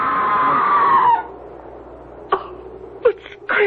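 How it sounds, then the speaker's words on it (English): A scream in a radio drama rings out in a long, loud, wavering wail at the start, then cuts off, followed by quieter sharp cries and gasps against near silence. "It was a scream, wasn't it?"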